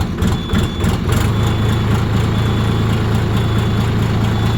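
A DTZ tractor engine runs steadily at low revs, a loud, close, continuous diesel drone with a strong deep hum and a faint high whine above it, holding even throughout with no talk.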